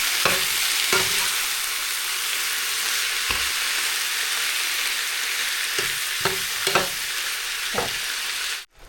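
Squid stir-frying in a pan gives off a steady, close sizzle, with scattered scrapes and clacks from a utensil stirring the pieces. No one speaks. The sizzle cuts off abruptly at the very end.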